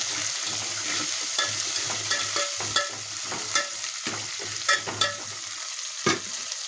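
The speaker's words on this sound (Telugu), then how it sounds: "కొంచెం వేగనిచ్చి టమాటాలు వేసుకోవాలి." Tomatoes fry with a steady sizzle in a pan for drumstick sambar, stirred with repeated sharp scrapes and taps of a spoon against the pan over the continuous hiss, close and fairly loud.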